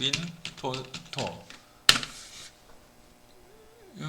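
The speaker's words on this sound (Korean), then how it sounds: "여기 주소창에다 윈토토라고 쳐서 윈토토 사이트를 가겠습니다" A burst of rapid keystrokes on a computer keyboard as a web address goes into a browser address bar, with close clicking and one sharp key tap, mixed with a person speaking in Korean before and after the typing.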